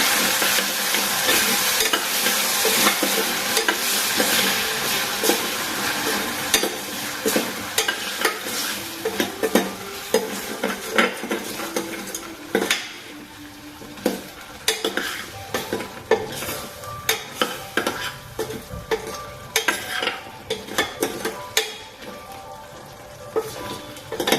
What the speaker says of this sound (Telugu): మంచిగా మిక్స్ చేస్తాను